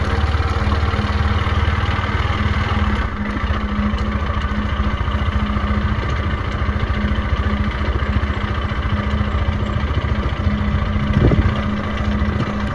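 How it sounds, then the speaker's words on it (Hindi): A vehicle engine with a reported strange noise runs steadily and close by, a continuous idling rumble with a persistent low hum and no obvious change in rhythm. "अजीब सी आवाज आ रही है इंजन से"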